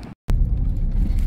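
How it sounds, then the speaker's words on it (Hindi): A car rumbles low and steady on a narrow residential street as it pulls up, with a brief gap in the sound near the start and no voices. "तो बस अब गाड़ी रोकेंगे"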